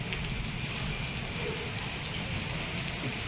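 A hailstorm with hail pelting down, giving a constant loud hiss and rattle of countless small impacts without pause, nearby and unaccompanied by speech.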